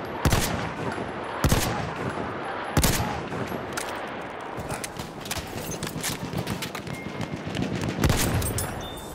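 Sniper rifle fire in the World War I shooter Battlefield 1: several sharp, loud gunshots at irregular intervals over a constant noisy battlefield background, with no voices.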